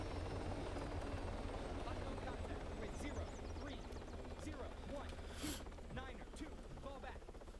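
The rotor of a helicopter in Arma 3 thrums steadily and quietly after a landing, while voices talk over it.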